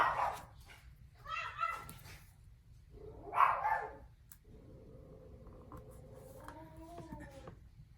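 Several dogs bark in short, loud bursts in a home craft room, set off by a neighbour walking her dog past, with quieter whining and a sustained tone later on.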